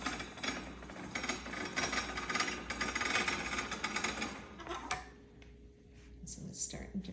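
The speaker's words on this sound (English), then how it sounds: "now all I have to do is start cranking this handle and it turns" A hand crank turning the back beam of a weaving loom to roll on the warp, giving a rattling, clicking mechanical run for several seconds, then easing off, while someone talks.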